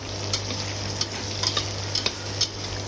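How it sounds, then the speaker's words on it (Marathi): Chopped onion sizzling steadily in a pan for a dhaba-style whole masoor dal, with sharp scrapes and clinks of a spatula stirring it at irregular intervals; close, moderate level, no voices. "यामध्ये आपण आता हा कांदा छान असा फ्राय करून घेणार आहोत"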